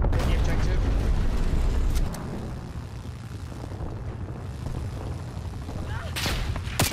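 In the Call of Duty Black Ops Cold War game, napalm explosions and gunfire boom loud at first, then rumble more quietly under a player talking, with sharp bursts near the end.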